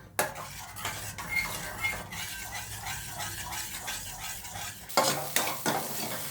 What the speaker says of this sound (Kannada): ಇದನ್ನು ಸ್ವಲ್ಪ ಫಸ್ಟು ಚೆನ್ನಾಗಿ ಫ್ರೈ ಮಾಡ್ಕೊಂಬಿಡೋಣ.